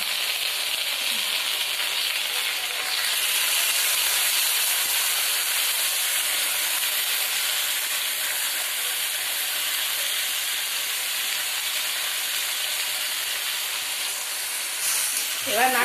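Ground spice paste fries in a pan after a splash of water is added, giving a steady, bright hissing sizzle with steam that holds evenly at close range for the whole stretch.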